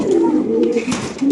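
A large racer pigeon coos in short, soft repeated phrases close by, with a bit of faint background noise.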